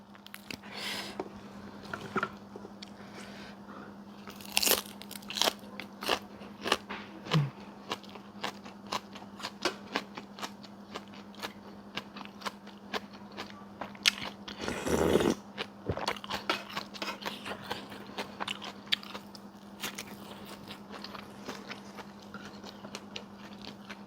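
Someone eats boiled bamboo shoots from a beef and potato curry, biting and chewing close to the mic with soft crunches and wet squishes repeating over a low steady hum, one louder crunch near the middle, and no talking.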